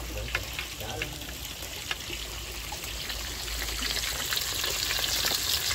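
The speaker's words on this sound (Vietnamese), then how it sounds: "Chiên theo cách của mình nó sẽ giòn và nó vàng, bảo đảm." Climbing perch sizzles in hot oil in a pan, a constant crackling fry with occasional stirring clinks, while people talk faintly in the background.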